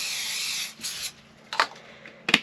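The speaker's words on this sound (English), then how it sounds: "a little bit of spray." A few short hissing bursts of cooking oil spray, the first longer and the rest brief puffs, close by in a quiet room.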